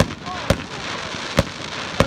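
Fireworks at a high school graduation celebration burst three times in sharp, evenly spaced booms over a steady rumble of distant crowd noise and voices.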